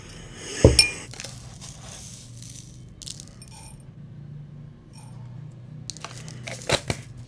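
A metal spoon clinks against a glass cup while preparing Dream Sahlab Pasha powder, with one loud close clink near the start, a few faint taps, then a pair of sharp clinks near the end, and no talk.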